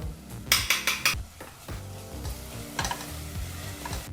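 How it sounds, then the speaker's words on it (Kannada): Ground masala paste frying in a pan for tomato rice, with a few quick metallic clinks of a spoon stirring against the pan at the start, then a soft continuous sizzle and scraping underneath. "ಮಸಾಲ ಪೇಸ್ಟನ್ನು ಹಾಕಿ ಒಂದು ಮೂವತ್ತು ಸೆಕೆಂಡ್ಗಳ ಕಾಲ ಮಸಾಲ ಪೇಸ್ಟಲ್ಲಿರ್ತಕ್ಕಂಥ ಹಸಿ ವಾಸನೆ ಹೋಗೋ ಹಾಗೆ ಫ್ರೈ ಮಾಡ್ಕೋಬೇಕು"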